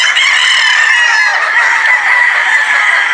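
Gamefowl roosters at a game farm in Batangas crow and cluck loudly and close by, with several overlapping birds forming a dense, continuous chorus.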